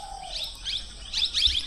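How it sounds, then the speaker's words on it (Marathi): More parrots near the Unhavare hot spring in Dapoli let out a few short, sharp chirping calls in quick bursts, fairly close, with no voices. "आणखी काही पोपट."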